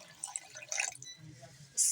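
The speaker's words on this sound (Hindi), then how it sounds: "ये थोड़ा सा पानी डाल दिया हमने।" A small amount of water goes into a cooking pan with fish masala, giving faint, brief splashes and drips in a short, uneven burst.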